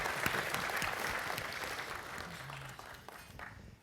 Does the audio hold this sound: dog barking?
no